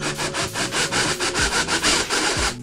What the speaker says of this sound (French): je vais percer un trou à peu près ce niveau-là